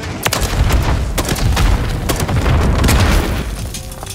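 Gunfire in a video game sniper match hits the player, a dense barrage of booming, crackling shots and impacts, loud and continuous throughout.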